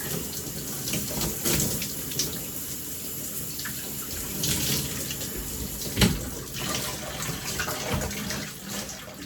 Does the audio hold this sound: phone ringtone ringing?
no